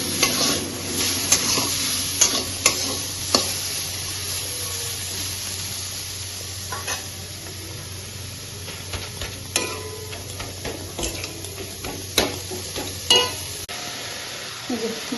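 Dal and vegetables fry in a pan with a steady sizzle, while a spatula stirs and scrapes in irregular bursts near the microphone over the whole stretch. A Diwali cooking session is underway, and no voices are heard.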